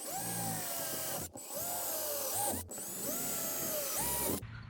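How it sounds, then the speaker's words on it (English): A power drill bores holes into the corners of a faux fireplace build, three sustained whining runs broken by short pauses as the bit spins steadily, loud and close with no talking. "I'm gonna drill 4 holes, 1 in each corner."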